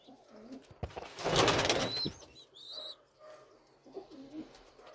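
Pigeons coo softly nearby, broken by a loud burst of flapping wings in the middle, followed by a few sharp chirps and more low cooing.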